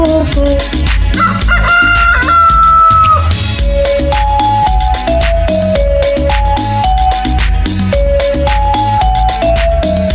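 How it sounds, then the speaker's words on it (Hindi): A rooster crows amid loud, bouncy music in a Hindi children's song, its call standing out against the steady beat and melody. "मुझे मुर्गे ने जगाया, बोला कुकड़ू कू"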